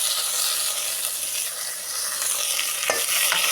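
Onions sizzle loudly in hot oil in a steady, dense crackle close by, a brief scrape and soft clunk near the end as tomatoes are added, with no talking.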